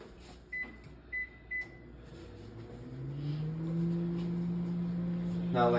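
Three short keypad beeps, then a microwave oven starts and hums steadily with a rising whir, close and fairly quiet.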